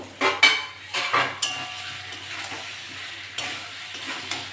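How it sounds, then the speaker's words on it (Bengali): Cumin, chopped tomato and spices fry in a pan, opening with several close clanking stirs of a utensil against the metal and then settling into a steady low sizzle with occasional lighter scrapes. "মশলা দিয়েছি এবার ভালো করে কষে নেব"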